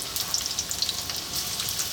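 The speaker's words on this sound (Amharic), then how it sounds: "በዛው መጥበሻ ዘይት ጨምሩና ሽንኩርታችሁን" Onions fry in hot oil in a pan, giving a soft, steady crackling sizzle that stays fairly quiet throughout, with no talking.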